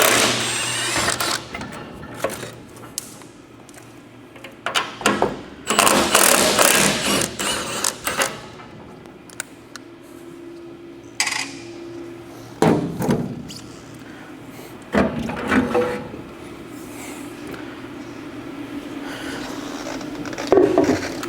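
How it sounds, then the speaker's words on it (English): Metal access panel pried and lifted off the fan motor housing of a stove, giving a run of clunks, scrapes and thuds in bursts with quieter mechanical rattles between them, close by and alone. "Then you can remove this access panel."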